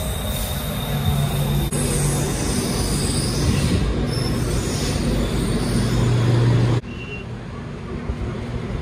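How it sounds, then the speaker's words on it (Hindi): Train pulling into a Bangkok station, loud continuous rumble of wheels on rails with squealing tones and a sudden drop in level near the end, surrounded by platform ambience. "ये ट्रेन आ गई है।"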